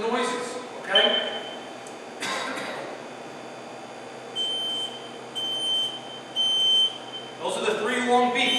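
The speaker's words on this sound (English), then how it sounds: "Those are the 3 long beeps. That's smoke or fire. This is carbon monoxide. 4 quick beeps." A combined smoke and carbon monoxide alarm sounds during a test, giving sustained high-pitched electronic beeps in a series of separate pulses, with a person talking between and around them.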